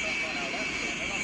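A jet aircraft engine roars at full power during takeoff in a flight game, a steady, loud, broadband whine and rush with no breaks.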